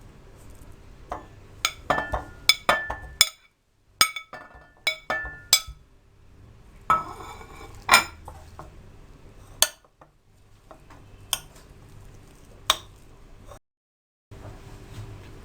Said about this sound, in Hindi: सबसे पहले आप आलू को मोटा मोटा मैश कर लें